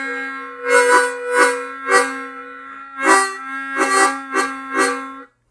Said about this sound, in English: there's another kind of tongue slap that you don't hear a lot, and it sounds something like this.